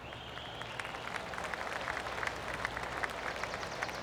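Gentle golf clap from a crowd after a drive in the PGA Tour 2K25 video game, a soft even patter of many hands held under a steady background hiss.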